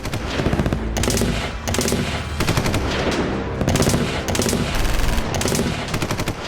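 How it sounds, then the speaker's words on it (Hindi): Sustained machine gun fire in a battle setting, loud and close, with rapid continuous bursts and brief gaps, no voices. "हथियारों से लैस विद्रोहियों ने मशीन गन से उन पर गोलियों की बौछार कर दी"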